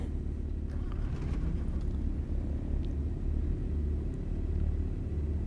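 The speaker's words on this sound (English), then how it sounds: "Good, engine start" A twin-engine aircraft's right engine starting and running in Microsoft Flight Simulator, a steady low droning rumble that holds evenly throughout, close and fairly loud, with no voices over it.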